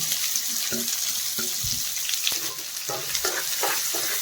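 A large cut onion sizzles in hot oil in a pan with drumsticks, a steady frying crackle broken by clattering stirs and scrapes of a spoon.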